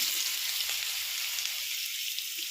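Cucumber pieces fry in a hot tempering of oil with dals, giving a continuous loud hiss and sizzle with faint stirring scrapes.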